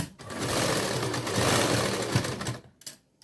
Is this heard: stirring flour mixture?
no